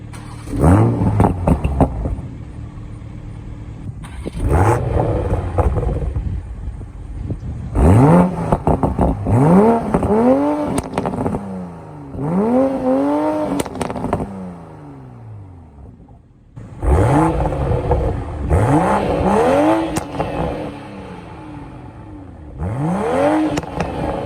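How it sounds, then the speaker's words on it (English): A 2021 Toyota GR Supra, warm-started in sport mode, gives a series of loud, close revs, each engine blip climbing and falling back to idle, repeated about eight times with brief quieter gaps between. "as you'll see, on warm startup and revving out in sport mode"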